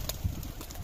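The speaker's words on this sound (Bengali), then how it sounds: "এই জোড়া আমার অনেক শখের কবুতর" A black pair of pet pigeons gives a brief, low coo up close, soft and short, with faint rustling around it.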